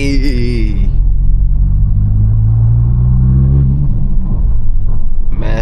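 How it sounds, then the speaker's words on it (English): A 2022 Honda Civic Si with a turbocharged engine drives along, giving a loud, steady low rumble and engine drone heard from inside the cabin, with a brief higher tone at the start and end. "I'm trying to hear that turbo, man."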